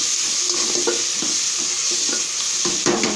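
Chopped green chillies frying in a pan for a vegetable kurma gravy, with a constant bright sizzle broken by several scraping stirs of a spatula close by.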